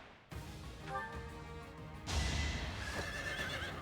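A horse whinnies in a video game, a high, wavering call over clopping hooves and crashing impacts, loud and close with a brief second neigh afterward.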